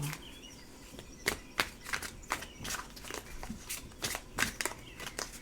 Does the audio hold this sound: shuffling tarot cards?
yes